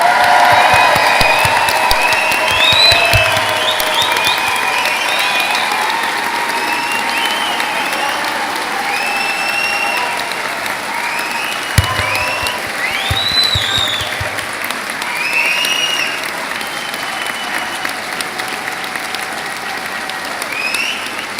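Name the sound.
audience cheering and applause at awards ceremony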